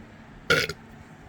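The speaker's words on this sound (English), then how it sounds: "I'm burping." A nervous man burps once, loudly and up close, a short voiced belch with a brief tail, alone with no talk around it during a Windows 11 Pro install on an HP Z820 workstation.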